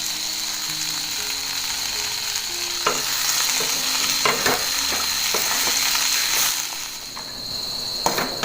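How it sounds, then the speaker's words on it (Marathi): Okra frying in oil in a kadai, a steady close sizzle running throughout with stirring scrapes and clinks of a spatula against the pan, no voices. "तर कढईमध्ये बघा तेल टाकलं आणि ही भेंडी आहेत ना भाजून घेते"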